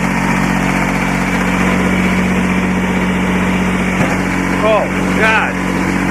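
Kubota diesel engine idling on a Cub Cadet RZT50 riding mower, a loud steady low rumble throughout, with a few short spoken exclamations over it.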